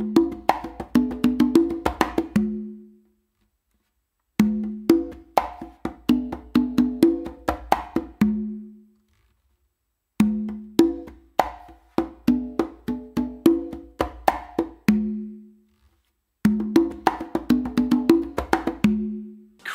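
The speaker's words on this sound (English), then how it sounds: "Now to put the whole pattern together, finishing off with the tumba, it's gonna sound like this." Conga drums play a syncopated funk groove in four repeated phrases, each closing on a deeper, ringing low stroke on the tumba, with short pauses between phrases.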